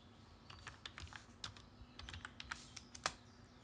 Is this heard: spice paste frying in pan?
no